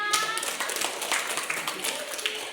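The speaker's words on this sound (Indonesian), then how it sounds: "tepuk tangan dulu kita semua." A sixth-grade class claps hands together in a classroom, a quick, uneven patter of small hands at moderate distance, fairly soft, with some children's voices mixed in.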